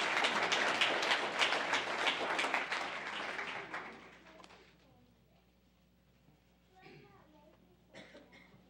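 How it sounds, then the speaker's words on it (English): Audience applause at a fire and safety awards ceremony, a dense clapping swell for about four seconds that fades into a quiet room with a few coughs and shuffles. "So he deserves a round of applause"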